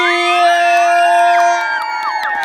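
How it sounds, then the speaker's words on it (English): A crowd screams, shouts and cheers at a live show, many high voices whooping loudly and continuously, with long sustained screams rising and falling throughout. "everybody put your hands together, scream, shout"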